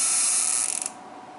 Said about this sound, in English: It's the little ceramics behaving like little piezoelectrics.